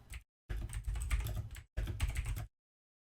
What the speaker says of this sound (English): my keyboard is ridiculously clunky